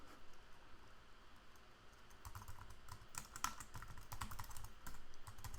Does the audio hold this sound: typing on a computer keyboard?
yes